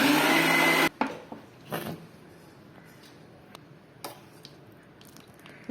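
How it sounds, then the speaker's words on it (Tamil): An electric blender grinds an oil and egg mixture for homemade mayonnaise, a loud whirring burst that cuts off abruptly after about a second, followed by faint clicks and scraping sounds. "நம்ம போட்டு திரும்பி ஒரு 10 செகண்ட் அரைச்சிடலாம்"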